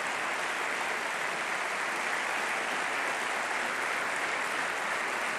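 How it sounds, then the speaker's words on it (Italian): Broad, steady applause from a large audience at an Italian Army concert, an even wash of clapping held at one level for several seconds without a break. "li salutiamo davvero con un grande applauso per tutto quello che stanno facendo"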